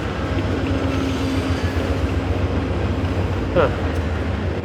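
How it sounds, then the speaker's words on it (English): A passing Via Rail passenger train rumbles steadily throughout, with a brief metallic wheel squeal near the end, heard at a moderate distance under some background talk. "There's a Via Rail train going by right now."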